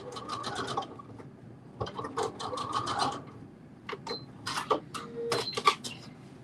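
A sewing machine stitches a garment sleeve for a Simplicity 9372 pattern in several short bursts of rapid rhythmic needle chatter, starting and stopping with brief pauses between runs.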